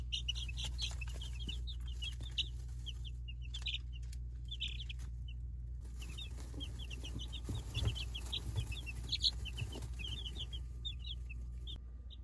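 Newborn chicks in a brooder box peep in quick, high, scattered chirps throughout, fairly close, over a steady low hum.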